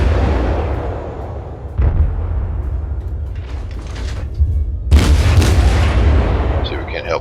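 Heavy naval gunfire from warships in the World of Warships game, with deep booming salvos near 1.8 and 4.9 seconds over a constant low engine-like rumble, loud and close.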